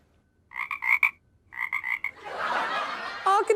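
A man vocally imitates a frog's croak, giving two bursts of three or four throaty croaks close to the mic, followed by a breathy rasping noise and a short voiced squeak.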